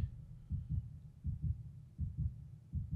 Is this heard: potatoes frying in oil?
no